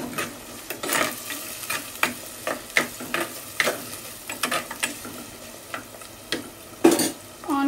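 Onions and green chillies fry in a pan for a South Indian fish curry, with irregular scraping stirs and clinks of a utensil against the pan over a low background sizzle, close up, with no talking.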